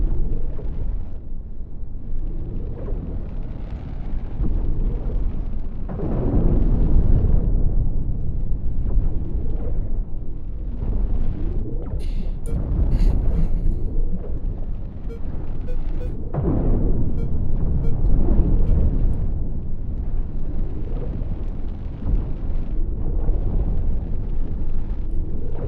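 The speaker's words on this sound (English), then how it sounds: "Admiral trying to scan the cloud with laser blaster shots" Laser blaster shots and explosions in a strategy video game, a long, continuous roar of rumbling blasts that swells and fades in waves, with brief crackling zaps in the middle, loud and dense throughout.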